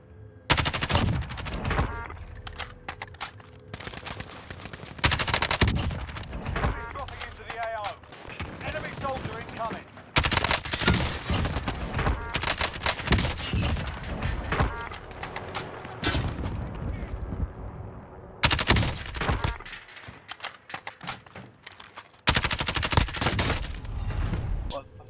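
Kilo 141 assault rifle fire in Call of Duty Warzone, with repeated loud automatic bursts separated by short pauses and some scattered distant shots between them.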